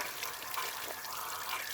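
Water sprays steadily out of holes in the corroded pump of a Troy-Bilt pressure washer, a continuous, even hiss of escaping water with no talking.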